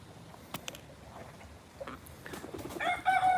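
Chicken calls in a tree-climbing garden setting among rare fruit plants, with a few short clucking notes that build toward the end, set over rustling outdoor background noise. No speech.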